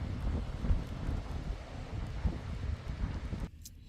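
Cold, blustery wind buffets the outside of a van on Vancouver Island, a rough, low roar that swells in gusts and then cuts off abruptly near the end.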